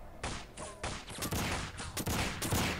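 Rapid gunfire bursts from Max Payne 2, loud and close, with several sharp volleys in quick succession and no talk.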